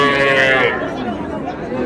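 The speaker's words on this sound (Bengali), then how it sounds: "গাভী বাছুর।" A cow with her calf at a village cattle market gives a short, close moo that fades after about half a second, followed by low market chatter and ambient noise.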